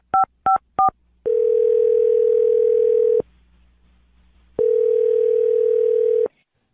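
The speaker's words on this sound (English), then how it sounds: "I'm going to dial James' phone number right now" A telephone line gives three quick touch-tone dialing beeps, then two long, steady ringback tones with a silent gap between them, clear and close.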